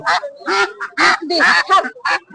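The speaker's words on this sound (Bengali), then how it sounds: "ডিম দেওয়া হাঁস এগুলো" Laying ducks quack in a run of about six loud, nasal bursts up close at Pakuahat, a large duck and poultry market in Malda district, with market voices mixed in.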